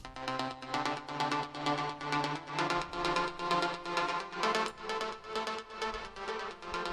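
Synth bassline in Cubase fed through a stereo panner enhancer set to 150, repeating pulsing notes in a steady rhythm, moderately quiet and alone with no voices.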